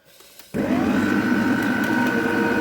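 A food processor whizzes lemon curd and lemon juice for a lemon drizzle cake, starting abruptly after a brief quiet moment and then running as a loud, steady motor whir with the blades churning.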